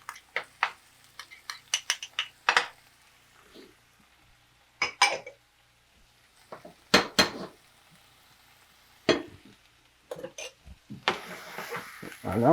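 Onions and garlic flower being sautéed in a pan for seafood and vegetarian tapas, with scattered bursts of stirring, scraping and clinking utensils against the pan between quieter gaps, close and moderately loud.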